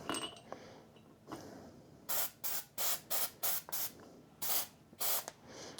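Short hissing bursts of an aerosol lubricant spray onto an old rusty ball vice being refurbished, about nine quick puffs in an uneven rhythm, close by and fairly soft.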